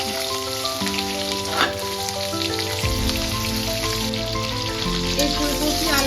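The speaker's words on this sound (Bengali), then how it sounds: "তেল আমার এখানে গরম হয়ে গেছে। এবার ফুলকপিটা আর আলুটা দিয়ে দিচ্ছি।" Cut cauliflower and potatoes hit hot oil in a pan, a steady loud sizzle and crackle that runs continuously throughout without any voices over it.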